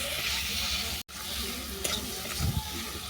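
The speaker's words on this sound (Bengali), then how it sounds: "দিয়ে সমস্ত মশলা আমি ভালো করে কষিয়ে নেব" A ground spice paste of ginger, garlic, onion and poppy seed fries in a pan with a close, continuous sizzle and stirring scrapes, broken once by a brief dropout.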